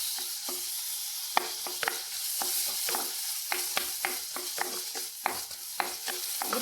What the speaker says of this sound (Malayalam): നമ്മൾ ഈ ചട്ടി തന്നെ നമ്മൾ തക്കാളി ഒന്ന് വറുക്കാൻ പോവാം